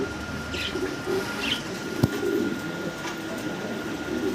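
Fancy pigeons in a loft coo softly and intermittently over a steady background hum, with a sharp knock partway through.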